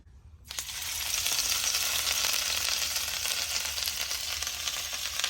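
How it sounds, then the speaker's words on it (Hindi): Turkish kofta kebabs drop into hot oil. After a moment of near silence, a loud sizzle bursts in and then holds as a dense, steady frying hiss up close. "तो ऑयल यहाँ अच्छे से गर्म हो चुका है, जल्दी से कबाब को फ्राई कर लेते हैं"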